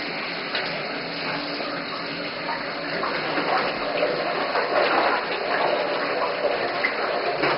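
Hot water pours steadily into a foot bath, a continuous close gushing and splashing wash that runs on without pause and with no voices over it.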